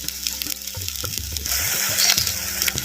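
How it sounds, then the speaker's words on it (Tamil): Onion paste frying in oil while being stirred, for cauliflower Gobi Manchurian, heard as a steady close sizzle with scraping stir strokes that grows louder and denser partway through. "சேர்த்த வெங்காய விழுதுகளை அப்படியே எண்ணெயில் நல்லா கிண்டு கிண்டு நல்லா கிண்டுறோம்"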